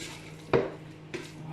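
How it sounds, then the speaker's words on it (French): A utensil knocks against a pot while onions are stirred into beef, two clinking strikes about half a second apart, close and quiet. "je vais mélanger mes oignons avec ma viande"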